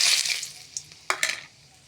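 Cinnamon, cardamom and bay leaf dropped into hot oil for chicken curry, a brief bright sizzle fading quickly, followed by a couple of short crackling bursts, close and alone.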